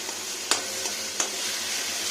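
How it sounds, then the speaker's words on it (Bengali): A soft, steady sizzle of mung dal frying in oil, with a couple of faint scrapes from stirring. "এই তেলটাতে মুগ ডালটা ভেজে নিচ্ছি"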